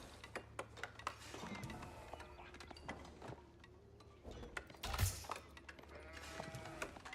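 Sheep bleat now and then in an Age of Empires IV match, faint and scattered over game sounds and soft clicks, with a brief louder burst near the end.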